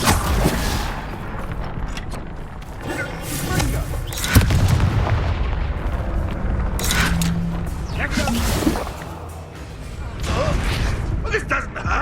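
Bombarda explosion spell cast in Hogwarts Legacy, with heavy booming blasts and rumbling impacts amid game noise and a speaking voice.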